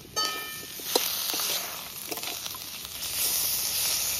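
Cumin powder, turmeric powder and ginger-garlic paste hitting hot oil in a pan for Bengali mochar ghonto, a sharp sizzle that bursts in and keeps hissing steadily, close and fairly loud.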